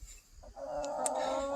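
Cornish Cross chickens on pasture cluck and call nearby, a brief low cackle building into a sustained vocal, heard alone without speech.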